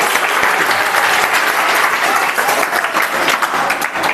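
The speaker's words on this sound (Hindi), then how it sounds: "युवराज के लिए एक बार जोरदार ताली बजाइए भाई।" Students in a classroom give loud, energetic applause for a classmate, a continuous close burst of many hands clapping without pause and with no one speaking over it.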